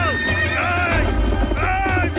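Horses neighing and whinnying in an animated cartoon, several loud, close, rising and falling whinnies in quick succession over a busy, noisy background.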